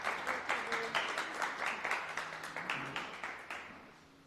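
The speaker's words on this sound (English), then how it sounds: "Everybody, round of applause." An audience at an aviation safety summit applauds, with moderately loud, rhythmic group clapping that carries on steadily and fades near the end, and no voices.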